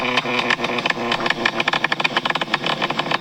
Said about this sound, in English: It sounds like the kind of pops that should be getting you flames.